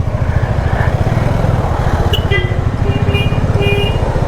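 A KTM 390 motorcycle engine drones steadily while riding, a continuous close pulsing rumble with a few faint higher tones over it.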